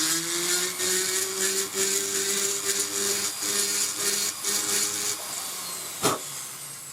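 A jeweller's rotary handpiece fitted with a small round burr whirs steadily at close range with a high, even tone that holds for several seconds before winding down, followed by a single small knock.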